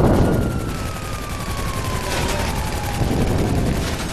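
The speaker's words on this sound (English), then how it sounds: "I'm just shooting the cops" Rapid gunfire rings out in GTA V Online while shooting at police, a dense stream of loud, close shots with a siren-like wail sliding underneath.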